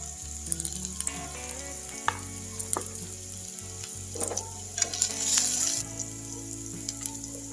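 Chicken and chopped onion fry in a pan with a steady close sizzle, punctuated by stirring scrapes and clinks and a brief louder burst of spitting oil.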